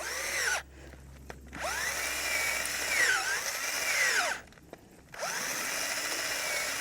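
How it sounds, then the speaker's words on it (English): A power drill bores planting holes in soft garden soil, whining in two long, loud bursts with the motor pitch rising and falling, separated by brief pauses. "Exactly, but it just drills. It makes a nice hole."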